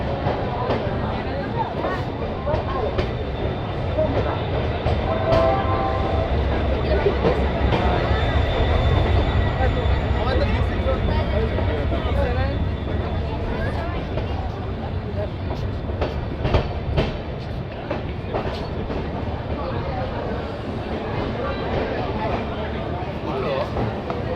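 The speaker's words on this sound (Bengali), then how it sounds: "মালদা টাউন স্টেশনের তিন নম্বর প্ল্যাটফর্মে ট্রেন দিয়েছে" The Tebhaga Express with LHB coaches sits at platform three of Malda Town station, a steady rumble and faint rail clatter running throughout while voices chatter nearby.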